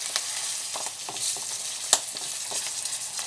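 Bacon sizzles in a frying pan with a steady, crackling fry and a single sharp pop or tap near the middle, heard close and alone.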